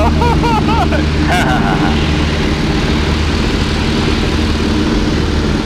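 A loud, steady propeller engine of a Howard DGA airplane drones continuously and close by, with a few short voiced sounds over it near the beginning.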